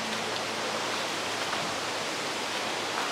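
A waterfall pours inside a large cave in Bali, water falling everywhere in a dense, constant roar that fills the space evenly with no voices over it.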